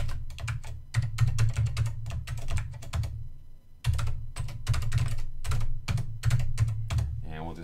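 Someone types a simple program on an Apple IIe computer keyboard, with rapid, close, clacking keystrokes in uneven bursts and a brief pause partway through.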